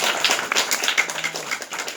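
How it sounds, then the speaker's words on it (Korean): A church congregation clapping during a Sunday service, a short run of uneven handclaps at moderate volume with no talk over it. "자, 우리 박수 한번 드립시다."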